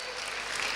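Audience applause at the Sefton Sports Awards 2018 ceremony: a short, dense burst of many hands clapping, steady and fairly loud throughout.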